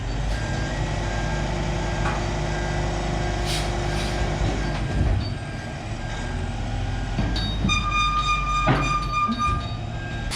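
MT100 mini skid steer driving during interior demolition, a steady close engine drone and rumble with clanking metal and scraping, plus brief high tonal beeps near the end.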